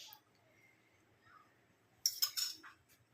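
A spoon clinks sharply against a pan as spoonfuls of mustard oil go in, several bright close metallic taps in quick succession after a quiet stretch.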